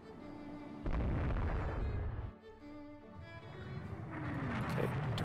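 A heavy boom as a torpedo strikes a warship in the naval strategy game Rule The Waves 2, with a loud onset followed by a rumbling, decaying roar and lingering low noise.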